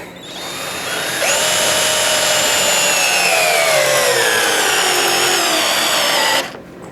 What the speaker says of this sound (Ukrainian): І зразу на свердліні закручувати будемо